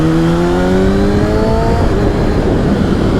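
A 2019 Kawasaki ZX-6R sport bike fitted with a Yoshimura Alpha-T exhaust screams loudly and close, its pitch climbing steadily through the revs before breaking off into a rougher, gravelly roar near the end.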